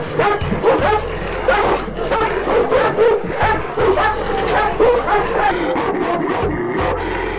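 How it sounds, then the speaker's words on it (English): Caucasian Mountain Shepherd guard dogs at a Russian prison bark repeatedly in loud, overlapping bursts with some yips and whimpers, fairly close. "This is an especially aggressive breed known as the Caucasian Mountain Shepherd."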